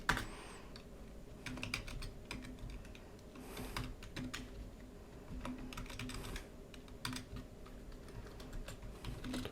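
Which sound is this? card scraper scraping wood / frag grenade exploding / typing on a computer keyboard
typing on a computer keyboard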